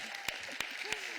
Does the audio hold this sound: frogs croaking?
no